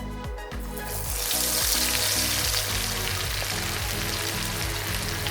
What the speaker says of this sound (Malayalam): എണ്ണ തിളച്ച് വന്നിട്ടുണ്ട്. നമുക്കിതിലേക്ക് സോയാബീൻ ചങ്ക്സ് ആഡ് ചെയ്യാം.